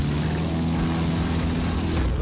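A steady, droning aircraft engine from the video game Battlefield 1943 hums loudly and continuously, with a low, even tone throughout.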